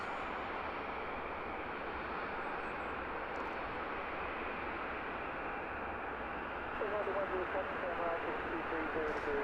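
A jet aircraft with bucket thrust reversers deployed rumbles steadily as it taxis at London Luton Airport, a broad continuous roar that holds level and swells slightly near the end, with no voices over it.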